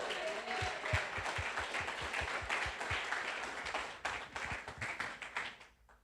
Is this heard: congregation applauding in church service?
yes